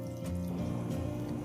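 Water poured into a pan of prawn curry, a soft continuous liquid trickle and fill close by, quiet and steady with no talking over it.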